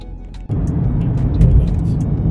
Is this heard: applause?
no